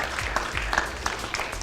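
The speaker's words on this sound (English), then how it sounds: "let's have a round of applause" A brief burst of audience applause at a gubernatorial candidate forum, steady clapping from a seated crowd with a voice faintly underneath.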